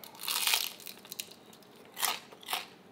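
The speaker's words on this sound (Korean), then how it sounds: "근데 방금 먹은 이 녀석은 바삭하거든요." Crisp crunching bites into a deep-fried rice paper dumpling, one long crunchy burst followed by several shorter crackling bites, close and alone with no talking.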